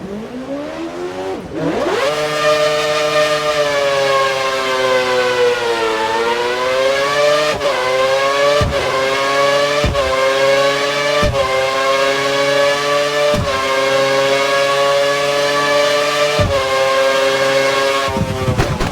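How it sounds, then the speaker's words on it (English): An F1 car in the F1 2013 racing game runs on a wet track, its loud, high-pitched engine whine climbing steadily through a series of sharp gear shifts before dropping away as it brakes. No voices are heard. "Head down the track and come to a complete stop in the designated area"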